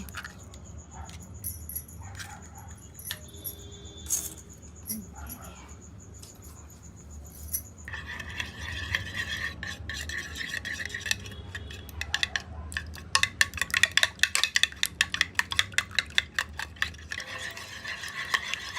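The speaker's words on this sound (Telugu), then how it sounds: "ముందుగా మనం గుడ్డు అయితే పగల కొట్టుకుని దీంట్లో అయితే వేసుకొని కలిపెట్టేసుకుందాము." Eggs cracked and beaten in a bowl for egg lollipops: scattered faint taps and knocks at first, then a steady run of quick, close clinking whisking strokes, mostly with no talk.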